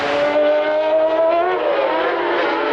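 Formula 1 race cars at the 1992 Spanish Grand Prix, one car overtaking another: a loud, continuous high-pitched engine scream holding steady with a slight pitch drift, close and alone without talk.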